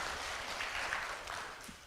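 A church congregation applauding during a Sunday afternoon praise service, a dense, steady wash of clapping from many hands, fairly loud and even throughout before easing slightly at the end.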